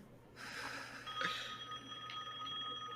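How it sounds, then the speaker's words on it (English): A phone rings at a Halloween party, a steady electronic ringtone tone repeating over ongoing room noise and background chatter. "your phone is ringing"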